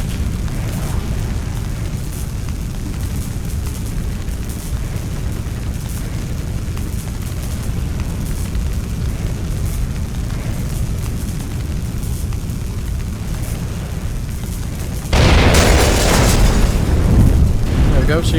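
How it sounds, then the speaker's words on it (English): Rocket explosions shattering glass at an oil refinery in the Splinter Cell video game: a long, loud rumbling roar fills most of the clip, then a sharper, brighter burst of blast and breaking glass erupts near the end. "the rockets are going to be coming down and they're going to be in a big explosion"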